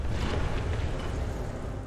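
Launch of a SACLOS laser-guided anti-tank missile in the War Thunder video game: a steady, loud rushing roar with heavy low rumble that holds for about two seconds and eases slightly at the end.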